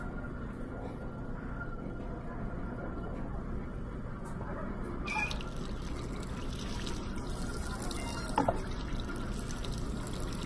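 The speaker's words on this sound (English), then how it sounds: "they all start with putting some water in the pot." Water runs into a pot in the virtual-reality game Job Simulator, a steady trickling pour that carries on throughout, with a few faint clicks partway through.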